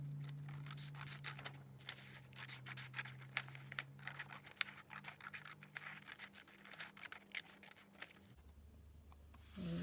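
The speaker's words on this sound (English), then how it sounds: "And then I'm just going to cut along the fold." Scissors snip through folded paper along the crease for a homemade paper boat sail, a steady run of close, crisp cuts and rustles, ending in a low hum.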